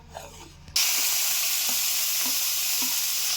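Onion, chili and garlic paste drop into hot mustard oil and burst into a loud, steady sizzle after a quieter start, with a few soft stirring scrapes breaking through the frying hiss.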